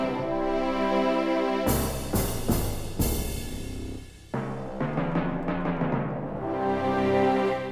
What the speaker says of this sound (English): So you got orchestra tutti,